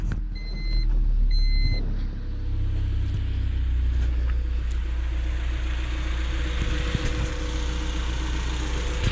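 A 1995 Honda Civic EG hatch with a D15 engine and a cheap eBay intake settles into a steady idle after starting, a low continuous rumble close by, with a few brief tones early on.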